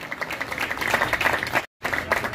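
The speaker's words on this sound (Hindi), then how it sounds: "3-4 लोगों ने ताली क्यों नहीं बजाई" Audience at a Delhi election rally in Krishna Nagar claps in a brief burst of close, uneven applause from a small crowd, cut by a short silent gap before the clapping resumes.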